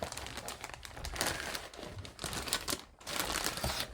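A plastic bag of screws from an Airfix Avro Lancaster B.III model kit crinkles and rustles steadily as it is handled close by, quiet, with no talking.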